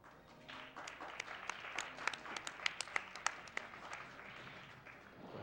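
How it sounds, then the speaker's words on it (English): Faint, distant audience clapping at a speedrun event, a soft steady patter with a few sharper individual claps standing out in the middle. "Please give yourself a warm round of applause."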